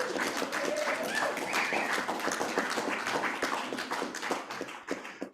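An audience claps in a steady patter of applause at a local Democratic party meeting as a woman walks up to the front of the room, the clapping dense and continuous throughout with some chatter mixed in.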